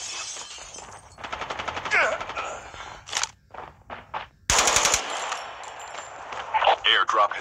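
Gunfire in the Call of Duty Mobile battle royale game during a tournament match: bursts of rapid automatic fire and sharp single shots with glassy crackle, loud and close, mixed with game announcer voice.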